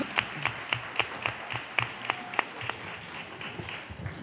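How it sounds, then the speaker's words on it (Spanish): Audience applause greeting a councillor for culture and education at a town hall book presentation, a steady patter of many hands with sharp individual claps standing out, fairly close and sustained throughout. "Rocío Ruiz, su concejala, un fuerte aplauso"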